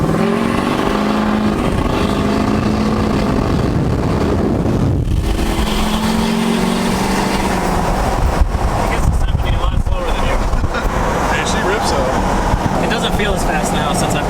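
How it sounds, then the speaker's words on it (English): A deleted LML Duramax pickup with a single turbo roars steadily under load, its loud exhaust mixed with wind buffeting the microphone, and a brief dip in the drone midway. "the single turbo alone is way louder than the compound setup"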